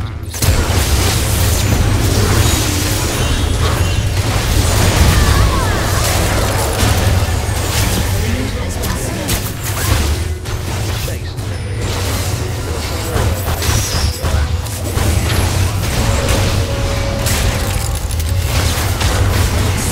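Ziggs's bombs explode in a League of Legends match, dull booms and bursts mixed into dense, continuous game sound effects.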